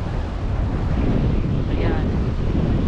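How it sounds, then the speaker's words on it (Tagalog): Steady roar of surf and wind at the shore by MIA Park in Qatar, dense and unbroken, with gusty microphone buffeting throughout. "Ayun, may dagat."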